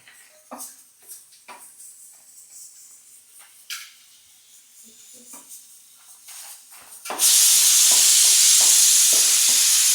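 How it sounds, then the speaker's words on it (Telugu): Dried red chillies fry on a low stove flame: quiet stirring and scraping at first, then a loud, steady sizzle bursts up and holds to the end. "స్టవ్ తగ్గించి వేపుడు చేసుకోవాలి"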